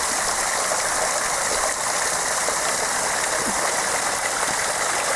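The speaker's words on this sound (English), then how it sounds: "I was surprised the water's still running." Cold winter stream still flowing beside an abandoned railway among ice, giving a steady, unbroken rush of running water that stays even and fairly loud throughout.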